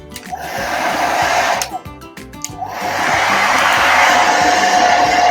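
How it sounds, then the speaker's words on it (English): A hair dryer on a cool setting blows over white chalk paste, a loud, continuous close-up roar that dips briefly midway and then swells back to full strength. "so I'm just gonna blow dry it with some cool"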